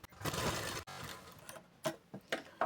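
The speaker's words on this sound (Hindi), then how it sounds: "इसके ऊपर पे एक लाइन हमें और टॉप सिलाई लगानी है" A sewing machine top-stitches a blouse in bursts of rapid mechanical rattling, a longer run first, then several short stitching spurts with pauses between.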